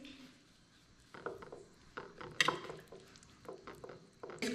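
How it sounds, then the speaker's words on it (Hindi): Ingredients for a Russian salad stirred in a bowl, with soft scattered clinks and scrapes of a spoon against the dish, quiet and irregular, with no voice over them. "इसको मिक्स कर लेंगे।"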